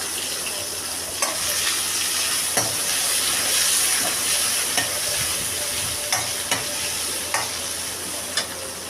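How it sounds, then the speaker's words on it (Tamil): Onion, tomato and green chilli fry in a pan for chicken gravy, making a constant loud sizzle close by, with regular sharp scrapes and taps from a stirring spoon. "வெங்காயம், தக்காளி, 2 பச்சை மிளகாய், தேவையான பொருட்கள் எல்லாம் போட்டு வதக்கி விடணும்."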